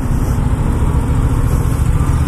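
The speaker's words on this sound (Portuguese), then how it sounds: "Essa moto aqui é grande, tem que puxar mais." A Yamaha MT-07 motorcycle engine runs loudly and steadily in city riding, a close, continuous mid-low drone with a constant throb and no voices over it.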